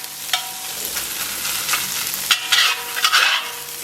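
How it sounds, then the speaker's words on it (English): Garlic softening in hot oil in a pan sizzles steadily up close, broken by a few sharp stirring scrapes and spatula knocks. "look how nicely that garlic's softening up"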